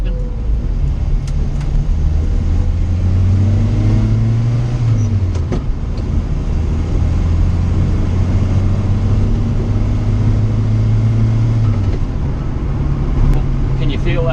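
A J15 car engine revs and accelerates close by, its pitch climbing and dropping through gear changes with a loud, steady drone and road rumble throughout.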